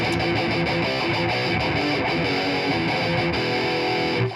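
Electric guitar through a heavy modern metal distortion tone in Rocksmith 2014, playing continuous dense, saturated chugging riffs at steady loudness with no talking.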